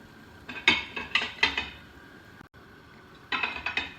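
Onion and garlic go into a cooking pot for Kuwaiti machboos laham, a series of close metallic clinks and scrapes of a spoon against the pot in two short bursts, with a faint sizzle beneath and no talk.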